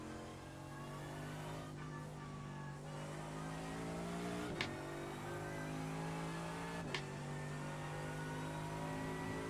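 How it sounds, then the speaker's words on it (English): A race car engine in the iRacing simulator holds a loud, steady, buzzing drone throughout, with two brief clicks partway through and no talk over it. "there's a car approaching."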